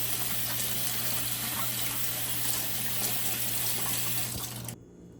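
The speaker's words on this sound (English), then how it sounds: "We're just going to start off by, of course, washing our cabbage" Tap water runs steadily while a cabbage is rinsed at a sink, a continuous close hiss with a low hum under it, cutting off abruptly near the end.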